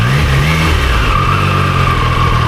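Triumph Daytona 660 motorcycle engine revving loud and close, a steady rising growl with pitch shifts through the throttle, alone without talk.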